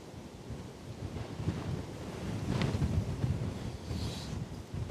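Strong gusty wind buffets the microphone outdoors while a DJI Mini 2 drone is flown, producing a steady broadband roar with a swelling gust in the middle and no talk.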